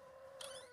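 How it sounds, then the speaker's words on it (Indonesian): A cat meows in The Baby in Yellow, a horror game about caring for a baby: one faint, brief meow rising over a steady game hum partway through. "Wah, ada kucing guys."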